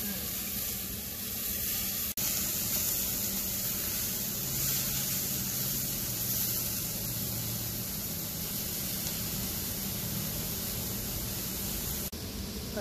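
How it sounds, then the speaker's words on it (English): Fresh broccoli stirred and cooking in a pan in a van kitchen, a steady broad sizzle and steam hiss throughout, fairly quiet, with a couple of sharp utensil taps. "After adding all the fresh broccoli, just kind of stir it up some more"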